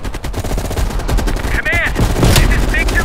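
Rapid gunfire from Call of Duty Black Ops Cold War crackles loudly and steadily during a firefight at a ridge, with a short voice and whistling tones rising over the clattering shots.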